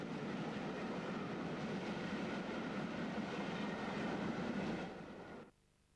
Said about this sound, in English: The first production mainline locomotives to be introduced were the English Electric Type 4s, or Class 40s.